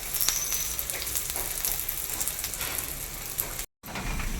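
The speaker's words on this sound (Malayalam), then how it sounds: "ഇനി നമുക്ക് നമ്മുടെ സൂപ്പിനകത്തോട്ട് ഒഴിച്ചു കൊടുക്കാം" Hot tempering poured into a Kerala-style mutton soup, with a steady crackling sizzle and scattered pops, close and fairly loud, cut by a brief silent gap near the end.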